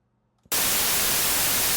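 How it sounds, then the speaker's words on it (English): After a brief quiet moment, a synthesizer noise generator suddenly switches on, giving loud, steady broadband white noise hiss that continues unchanged to the end. "And I got some noise. White noise."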